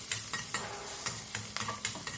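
Urad dal, curry leaves, dried red chillies and green chillies frying in hot oil for a tempering, a constant crackling sizzle broken by sharp, regular spatula scrapes against the pan, close and fairly loud.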